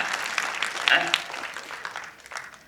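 A live audience breaks into clapping at a stage event for the Yajamana film re-release, a dense crackle of many hands that swells briefly and then tapers off, with a voice faintly mixed in.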